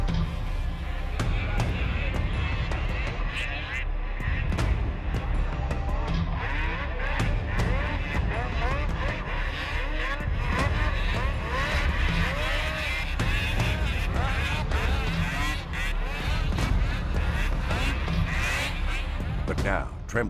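Snowmobiles including a Polaris race around a man-made snocross track, a dense, continuous buzz of high-revving two-stroke engines with rising and falling whines, under an excited commentator's voice.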